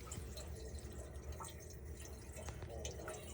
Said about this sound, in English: draining a full washing machine right now.